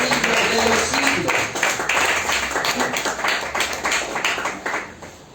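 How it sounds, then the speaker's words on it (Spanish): A church congregation claps together in a dense, steady round of applause that fills the space, with mixed voices underneath and no single speaker standing out. "Démosle otra fuerte ofrenda de aplauso al Rey que vive todos los siglos de los siglos"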